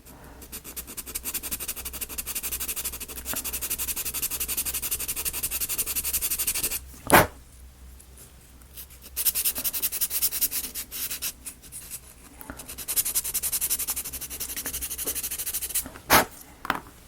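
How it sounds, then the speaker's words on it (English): Light sanding to bevel the edge of a small piece for a Cutebee book nook kit, steady close scratchy rubbing strokes in long runs with short pauses and a couple of sharp taps between them. "So I'm going to try and sort of lightly bevel that edge just to get a shade more."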